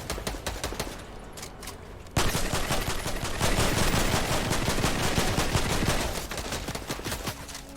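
Rapid gunfire from a Fortnite match rattles in quick, dense bursts, quieter at first and then loud and continuous from about two seconds until it eases near the end.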